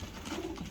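Indian blue pigeons in a breeder loft give a short, soft, low coo, close by and faint against a quiet room, with no voices present.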